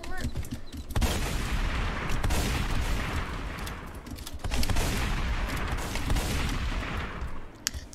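Rapid bursts of gunfire in a Roblox shooter game, with loud repeated shots and booming impacts running through most of the stretch, plus a brief quieter gap near the start.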